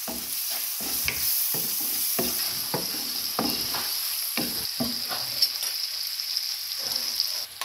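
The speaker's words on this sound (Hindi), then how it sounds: "एक टीस्पून जिंजर पेस्ट डालेंगे, इसको भी भूनेंगे" Ginger paste and spices for a prawn curry being stirred and fried in a pan, giving a steady sizzle broken by repeated scraping strokes from the spoon, close up and with no talking.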